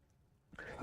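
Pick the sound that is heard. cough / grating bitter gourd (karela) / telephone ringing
cough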